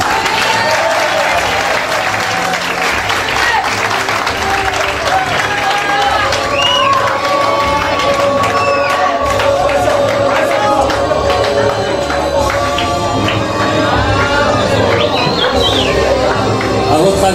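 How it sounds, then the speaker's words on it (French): School audience at an inter-class debate final applauding and cheering steadily throughout, with whoops and voices mixed into the continuous clapping. "Applaudissements, s'il vous plaît"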